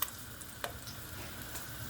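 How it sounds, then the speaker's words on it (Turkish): Eggplant pieces sizzle and crackle in hot olive oil in a pan while being sautéed for a güveç casserole. The steady, quiet frying hiss has a few sharper pops. "Isınan yağımın içerisine patlıcanlarımı ilave ediyorum."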